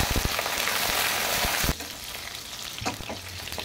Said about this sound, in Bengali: এবার আলুগুলো তুলে ওর মধ্যে গোটা ঢেঁড়সগুলো ভেজে নেব।